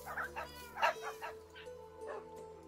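Dogs in the video game Minecraft give a few faint yips and short barks over a steady low hum. The sounds are quiet and scattered across a brief moment.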